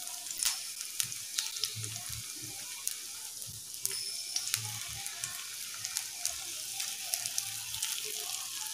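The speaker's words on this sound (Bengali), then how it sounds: "এইভাবে মিডিয়াম ফ্লেমে আমরা 3-4 পিস করে একসাথে ভাজতে পারবো।" Battered bread pieces fry three or four at a time in oil over a medium flame, giving a soft continuous sizzle with scattered small pops and crackles, fairly quiet and steady throughout.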